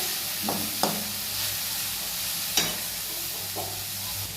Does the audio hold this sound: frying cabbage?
yes